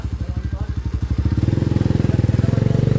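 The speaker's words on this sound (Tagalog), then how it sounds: "Drive 200cc na naka 5-speed transmission." A 200cc motorcycle engine fitted with a 5-speed transmission runs close and loud, its slow putt-putt firing speeding up into a rapid even throb.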